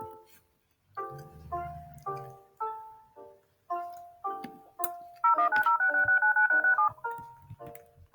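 An emergency phone in the Airplane Story video game is dialed, giving a sequence of distinct keypad tones, one per press, followed by a rapid warbling ring signal.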